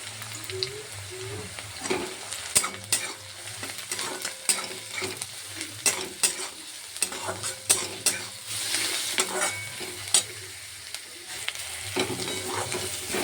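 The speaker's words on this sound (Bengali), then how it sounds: "এবারে রসুন আর কাঁচা লঙ্কা থেতোটা ছেড়ে দেবো" Crushed garlic and green chilli fry with softened onions in a pan, a steady close sizzle broken by frequent sharp scrapes and clinks of a stirring spoon against the pan.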